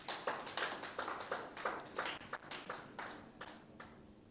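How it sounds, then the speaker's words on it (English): A small audience at an art gallery event claps, with sparse, uneven hand claps, a few people striking irregular beats at moderate distance before fading out. "A round of applause."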